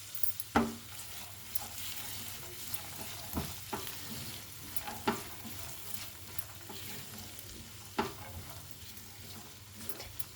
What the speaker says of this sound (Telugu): ఇప్పుడు శనగపప్పు వేసేసుకుందాం.